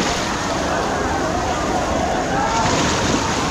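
Broad, steady rush of surging water from an artificial wave pool at Manthan Water Park & Resort in Virar, Palghar, loud and continuous with waves churning and sloshing, no distinct voices standing out.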